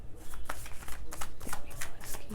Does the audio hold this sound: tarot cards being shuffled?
yes